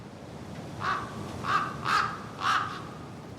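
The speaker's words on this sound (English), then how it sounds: "Then the bird said, nevermore." A raven caws four times in a slow, uneven series, each harsh call clear and fairly close against a quiet background, with no talking.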